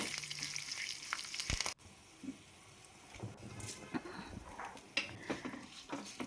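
A tempering of mustard seeds, urad dal, cumin, garlic, curry leaves and dried red chilies crackles and sizzles in hot oil for gongura pappu, with a loud burst at first, then quieter frying and occasional utensil clinks.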